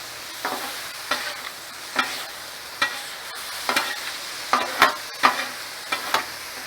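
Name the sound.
mixing spices together with cumin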